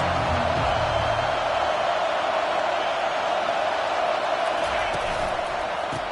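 Stadium crowd roar in an American college football video game fills the sound as a steady, loud wash of cheering and noise during a fourth-down play, with commentary voices over it.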